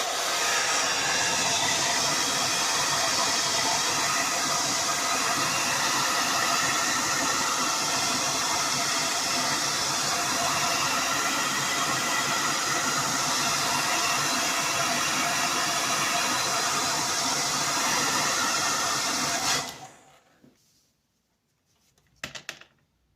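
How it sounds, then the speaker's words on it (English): A hairdryer blows steadily and loudly across resin or a similar poured liquid to clear bubbles, a continuous broadband rush that cuts off abruptly near the end, leaving near silence. "I'm just going to use the hairdryer to get rid of any bubbles and to make it more liquidy."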